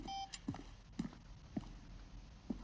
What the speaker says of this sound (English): Making beeping noises on me.